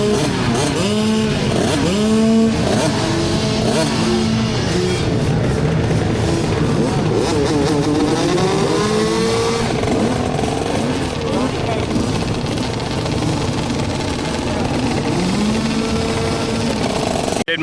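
Dirt bikes racing on a track, high-revving two-stroke engine whines rising and falling continuously as several riders run the outside line by the wall, loud and close with talk over it.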